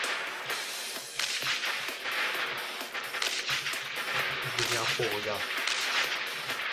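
Tank cannon fire in the tank game Tank Arena, sharp whip-like shots cracking over constant engine and battle noise, with a brief voice exclamation partway through.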